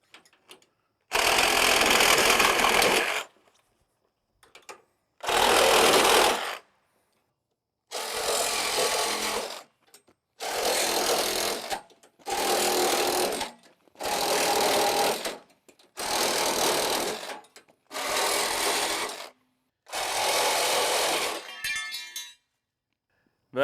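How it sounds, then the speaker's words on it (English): A power tool cuts through the plastic front panel of an IBC tote in nine loud, steady bursts of about one to two seconds each, separated by short pauses, with no talking. "So we're going to cut the entire front of this tote out."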